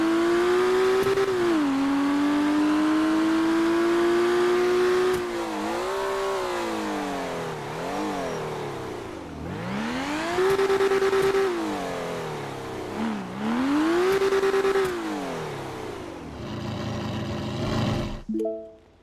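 A loud V12 truck engine in a GTA roleplay game revs repeatedly, its pitch climbing, holding and dropping in several long sweeps before cutting off sharply at the end, close and dominant with no talk.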